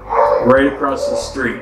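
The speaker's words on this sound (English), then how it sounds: "I'm sorry about the dogs." Dogs barking at a dog hospital across the street, brief yips and barks in the background beneath someone speaking close by.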